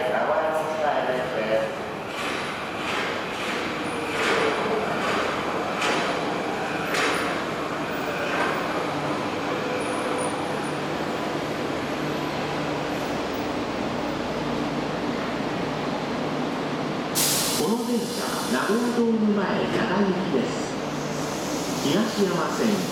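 A Nagoya Municipal Subway Meijo Line train rumbles into Sakae Station with a steady roar and a sharp hiss of air near the end, while a Japanese public-address voice announces over it.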